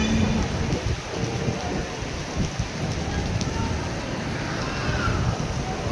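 Steady rain pours down in Baguio, a dense continuous hiss with scattered heavier drops, constant and fairly loud throughout.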